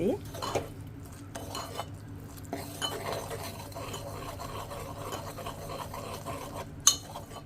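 Jaggery frying in oil in a pan is stirred steadily, with a faint bubbling hiss under scraping and clinks of a utensil against the metal, plus one sharp louder clink near the end.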